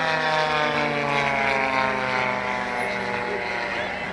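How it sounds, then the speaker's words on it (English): A propeller-driven military aircraft, a type also built as a jet, passes at an airshow with a loud, steady droning engine hum and layered propeller tones that fill the whole stretch without a break. "That's because this aircraft comes either as a jet or propeller-driven aircraft, which is itself most unusual."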